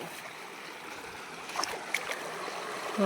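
Water flows down a forest waterfall as a steady broadband rush, close and fairly loud, with a few brief splashes and knocks over the continuous wash.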